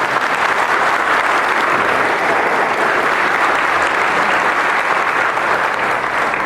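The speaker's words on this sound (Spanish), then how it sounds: "Vamos a darle un aplauso fuerte a la palabra de Dios." A church congregation gives a strong, sustained round of applause, a dense even wash of clapping that holds steady at full volume throughout.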